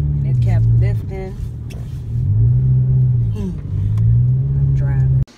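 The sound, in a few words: car driving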